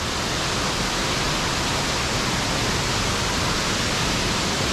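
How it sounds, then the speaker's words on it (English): Steady, loud roar of water pouring over Murray Falls, a broad rushing wash that fills the clip from start to finish with no break and no voices. "We can get access to this waterfall as well."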